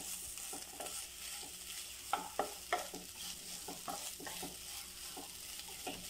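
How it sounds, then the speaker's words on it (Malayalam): Jackfruit pieces being mixed into a snack mixture in a pan, giving a steady low sizzle with a series of distinct scraping and stirring strokes, several stronger taps in the middle, heard alone without speech. "ഇനി ഇത് നന്നായി ഒന്ന് മിക്സ് ചെയ്യാം."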